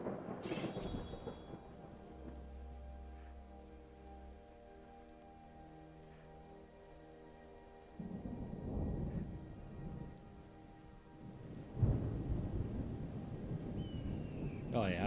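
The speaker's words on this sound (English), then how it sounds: "Oh yeah, this rain and everything." Rain and thunder in a modded Skyrim video game, a steady wash of rain on surfaces with low rolling thunder swelling in twice, heard alone without talk.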